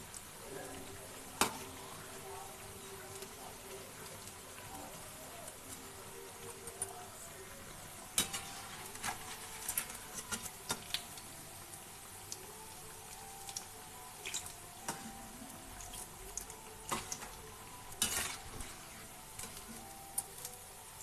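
Onion and gram flour bondas frying in hot oil: a steady bubbling sizzle runs throughout, with scattered sharp clicks and scrapes as they are stirred and lifted, close and moderately quiet.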